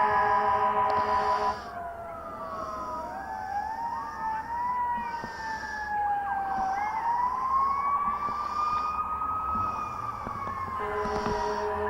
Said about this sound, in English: for a minute or so we've been hearing sirens